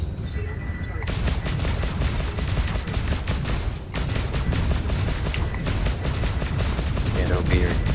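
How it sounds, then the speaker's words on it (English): Rapid, sustained gunfire pours onto a player's spaceship during a Star Citizen Arena Commander dogfight against pirates, dense repeated shots running nearly unbroken for the whole stretch with a brief dip midway. "Oops, I think I'm getting shot at quite badly."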